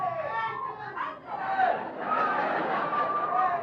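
Studio audience on a 1972 late-night television talk show cheering and whooping as a crowd, a loud continuous roar of voices with shouts, no clear clapping rhythm.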